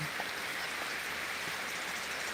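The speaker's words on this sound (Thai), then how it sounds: "อยากเล่นน้ำฝน" Steady rain falls at a rural home, a continuous soft hiss of drops with no breaks and nothing standing out from the wash.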